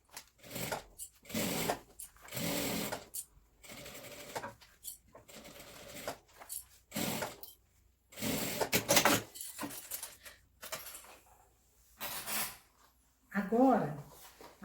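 A sewing machine stitches a medicine pouch, with backstitching at the start and end of the seam. The stitching comes in short, close bursts that alternate with a person talking.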